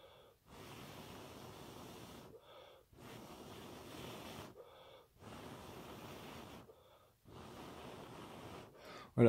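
Someone blows hard onto hot shisha charcoal in four long, breathy gusts separated by short pauses, each a loud rushing exhale close to the mic.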